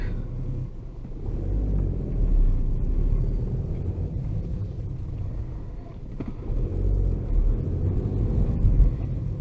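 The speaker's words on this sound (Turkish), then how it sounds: "Ehliyetsiz son araba sürüşümüz ve ehliyetli ilk araba sürüşümüzü kayıt altına alacağız." Steady, loud low engine rumble and road noise inside a moving car, with a brief dip midway before the drone resumes, and no voices.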